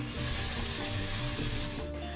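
Masala fries in ghee over low heat for garlicky spinach khichdi, a steady close sizzle that continues unbroken and then eases off at the very end, with no talking.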